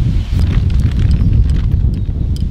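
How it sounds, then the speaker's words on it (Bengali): Palm fruit fritters (taler bora) frying in hot oil make a steady, close crackling sizzle with dense bubbling throughout and a few sharper pops, with no talking. "তেল খুব ভালো করে গরম হয়ে গেছে, এবার ফুলুরিগুলো ভেজে নেব।"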